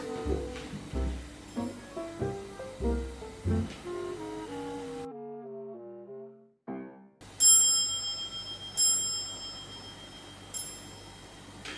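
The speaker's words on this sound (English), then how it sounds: "when I want the bell to ring, I give this a little bit of power and then release it" A homemade retro telephone bell rings in a few quick bursts of bright metallic clangs after some softer chiming notes, loud and close.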